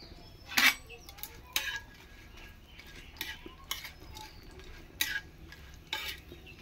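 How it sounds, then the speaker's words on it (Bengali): Black mustard seeds tumble into a pan and get stirred, giving a few sharp metallic clinks and scrapes at roughly one-second intervals over a soft sizzle, close and fairly quiet, with no talking. "লাস্টে আমি সরষাটা দিচ্ছি।"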